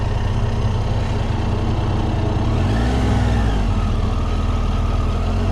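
A BMW motorcycle engine runs steadily through a slow U-turn at a BMW rally, a continuous close drone with a slight dip and shift in pitch midway, with no voices.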